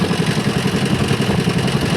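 Motorcycle engine idling close by, a steady rapid chugging pulse with mechanical clatter, loud and alone.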